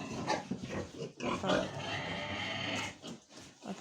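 A sow in a warm barn shed grunts and breathes heavily before farrowing, with close, repeated grunts and rough breaths; a person talks over the animal noises.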